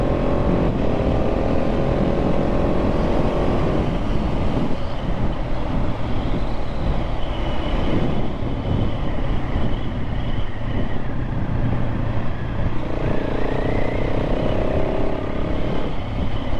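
A 2024 KTM 690 SMC R motorcycle riding through countryside: a constant loud engine drone with shifting pitch and wind rush throughout, close up, with no talking.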